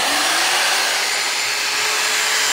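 A Pistorius WL-S dual spindle dovetail key machine runs with a steady, close motor whir and broadband hiss, unbroken and alone throughout.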